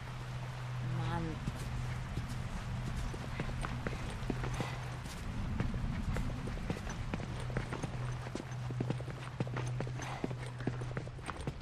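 Horse hooves clip-clop in The Last of Us Left Behind, a steady run of sharp, even hoof clicks over a constant low game hum and ambient noise, with a brief voice-like tone early on.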